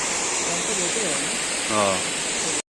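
Lake water overflowing at Shamirpet Lake, a steady loud rushing roar like a broad spillway, with a voice briefly heard over it.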